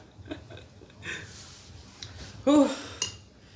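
A spoon scrapes and clinks against a dish during a meal of food with chili sauce, a few short separate scrapes with one louder clink near the end, close by and fairly faint.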